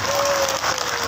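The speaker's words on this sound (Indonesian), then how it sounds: "Tepuk tangan untuk mereka semua." A brief burst of audience applause greets the singers and conductor at an Istighosah Kubro and National Santri Day gathering in Sidokerto village, with a voice carrying over the clapping.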